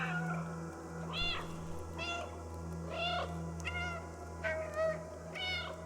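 Cat meows from the video game Stray repeat about six times at a steady pace, each short and rising-falling, over a low constant game hum.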